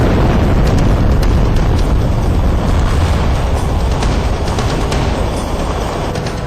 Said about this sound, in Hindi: सेना ने इन झीलों पर बने 4 किलोमीटर लंबे बांध को ब्लास्ट के जरिए उड़ा दिया।